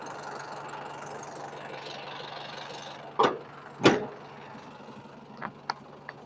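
A 1990 Nissan Big-M pickup truck engine idles steadily at low rumble, with a couple of sharp clunks or knocks breaking through partway and a few lighter ticks afterward.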